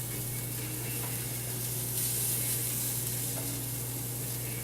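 An omelet sizzles in a frying pan with a steady, close hiss that stays even throughout, over a low constant hum, with no talking.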